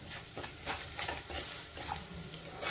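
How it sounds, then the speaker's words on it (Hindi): Dry spice powders, red chili, cumin powder and salt, roast in a pan over low flame while being stirred, with soft close scraping and a light sizzle, no speech. "इन सबको साथ में ही भून लेंगे"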